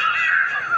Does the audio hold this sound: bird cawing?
yes